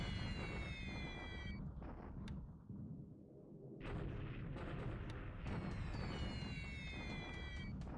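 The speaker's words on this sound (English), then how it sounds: "These are just bombing normal level." Bombing sounds from the War in the Pacific wargame roll on as continuous heavy rumbling and blasts, briefly dipping before swelling again, loud and dense with no voices.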